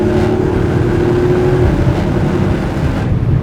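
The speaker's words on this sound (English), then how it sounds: "it's a really nice kind of richer, more involving exhaust note." Performance sedan, Mercedes-AMG C63 S, BMW M3 or Audi RS4, with eight-speed automatic, its rich exhaust note booming close and steady under acceleration, a deep throaty rumble that swells slightly as revs climb.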